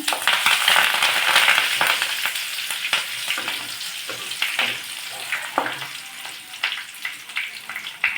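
Chillies and curry leaves frying in hot oil for lemon pickle, a loud, steady close-up sizzle with occasional stirring scrapes throughout, no voices.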